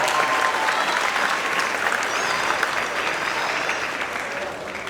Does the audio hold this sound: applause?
yes